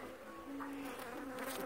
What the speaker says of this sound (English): We got bees out of the chimney there.